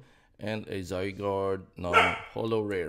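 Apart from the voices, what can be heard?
cockapoo dog barking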